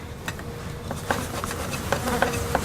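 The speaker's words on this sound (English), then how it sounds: "So we've got an excluder, and there's a mass of bees underneath." A mass of bees hums beneath a queen excluder in an open hive during a spring inspection, a steady close buzz with scattered sharper buzzes and light clicks from handling the frames.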